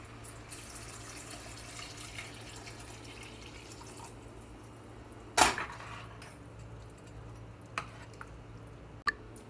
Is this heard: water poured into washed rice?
yes